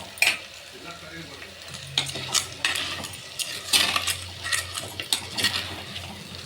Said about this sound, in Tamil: மஞ்சள் தூள் நல்லா வதங்கணுங்க